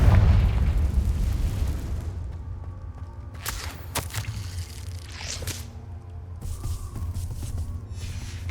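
A Confringo spell explodes in the Hogwarts Legacy video game, opening with a loud deep boom that rumbles and fades, followed by scattered sharp pops and crackles.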